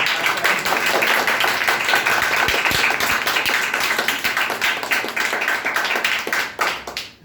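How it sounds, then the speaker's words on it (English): An audience applauds after a speech at a public speaking competition, with dense, sustained clapping that stays loud throughout before tapering slightly at the end. "Even people are not stopping clapping."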